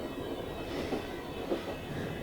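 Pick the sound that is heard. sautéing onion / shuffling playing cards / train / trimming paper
train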